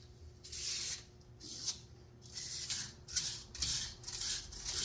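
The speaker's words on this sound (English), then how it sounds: "I'm going to blow all this out with the air compressor too" Compressed air from an air compressor hisses in short, uneven bursts while blowing debris off Silverado Z71 front suspension parts in a garage. The gusts come and go over a quiet background, nearby but moderately soft.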